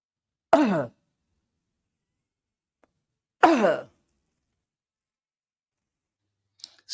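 Two short, sharp coughs spaced a few seconds apart stand alone in silence, each forceful and abrupt.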